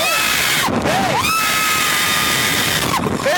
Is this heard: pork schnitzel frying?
no